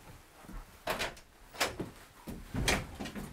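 A house door opened during a sheriff's department search, with several short knocking and creaking thumps at irregular intervals, moderately close, no speech over them.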